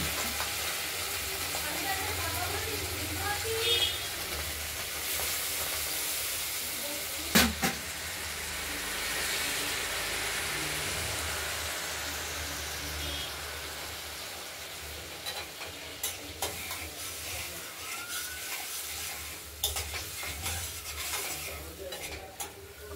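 Fried spice paste sizzles in a pan while being stirred for a rohu fish curry with potato and tomato, a continuous frying hiss broken by occasional scrapes and clinks of a spoon against the pan.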